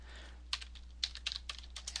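Quick bursts of key clicks on a computer keyboard, close and fairly quiet, in an irregular rhythm of single presses and short runs, following a brief pause at the start and heard with no voices.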